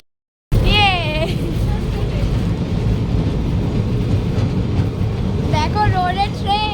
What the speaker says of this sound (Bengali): দেখো রোডের ট্রেন।